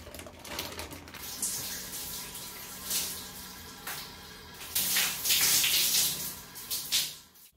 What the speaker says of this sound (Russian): Осталось только снять маску и последний раз ополоснуть волосы.